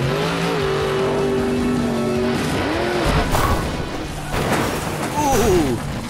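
Monster truck number 13 roars through a run and launches off a jump, engine revving and tires squealing on landing, loud and continuous with a crowd or commentary mix behind.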